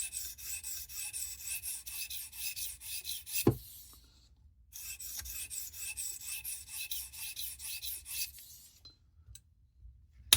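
Knife blade drawn back and forth across a sharpening stone on a Tsprof Pioneer guided sharpening system, a steady rhythmic rasping scrape in two long runs with a short pause between, close and alone.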